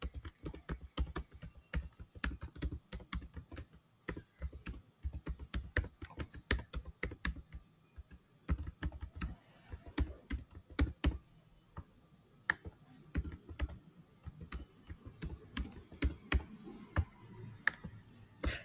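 Steady clicking of a computer keyboard as an address is typed into an online PF withdrawal form, quick irregular keystrokes close up and fairly quiet, with short pauses between bursts.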